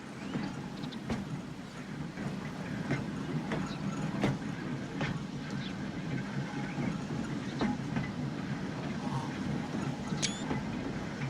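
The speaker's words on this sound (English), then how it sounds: "Right, we've got an electric tram." Electric tram running in the Transport Fever 2 game, a steady low rolling rumble with faint clicks and ticks throughout, heard alone at moderate level.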